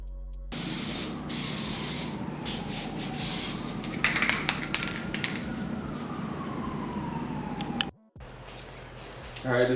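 Primer sprayed from a can onto homemade side splitters for a Subaru BRZ / Toyota 86 / Scion FR-S, a steady close hiss running for about seven seconds before stopping abruptly, then resuming briefly.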